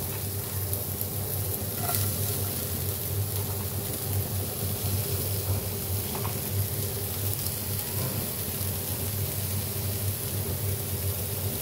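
Oil in a pan on a village kitchen stove sizzles steadily before the ginger goes in, a continuous close crackle with faint background hum and no talking.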